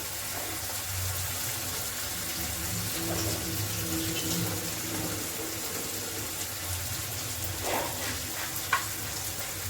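Coriander being rinsed under a running kitchen tap, a steady broadband wash of flowing water with faint clinks and a sharper knock near the end, no voices.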